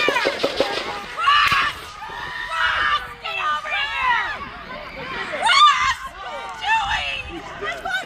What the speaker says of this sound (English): Even the woman's screams sounded like a pre-recorded soundbite.